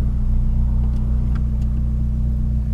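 A Chevrolet Corsa Classic 1.0 VHC running on ethanol pulls away in first gear, its engine giving a steady, loud low rumble with no clear rise in pitch, heard alone without talk.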